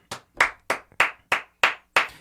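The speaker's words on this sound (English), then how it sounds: "Am I the only one clapping?" A single person claps alone, seven sharp, evenly spaced hand claps close to the mic with short silent gaps between them and no crowd joining in.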